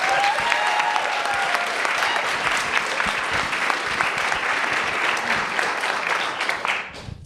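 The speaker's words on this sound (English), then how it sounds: "Please welcome Diana Umbogo from Tanzania" Audience at a women's pitch night event greets a speaker with sustained, dense clapping that holds steady for about seven seconds before cutting off, with no talking over it.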